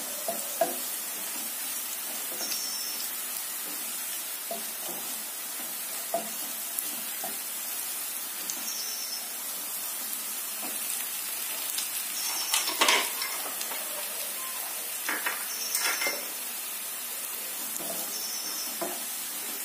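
Onions frying in a pan for urad dal khichdi, a constant sizzle with repeated spoon stirring and scraping strokes throughout, a few louder clatters midway, no talking.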